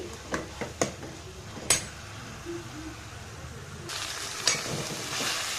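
Bitter gourd palya with fresh coconut and coriander leaves cooks on a low flame, sizzling softly beneath a few sharp clinks of a spatula against the pan, with a brighter burst of frying hiss near the end.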